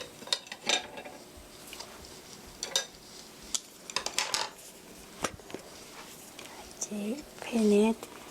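A pan is handled on the stove while grapeseed oil goes in for pear fried rice: sharp metallic clinks and knocks, close and intermittent, with a faint sizzle and a voice briefly audible near the end.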